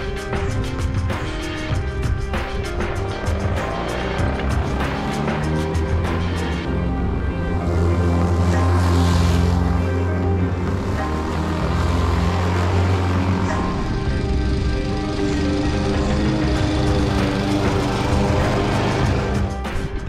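A Toro 21-inch commercial lawn mower cuts grass with a continuous loud engine drone and blade whir, its pitch and intensity shifting slightly as it moves over the lawn.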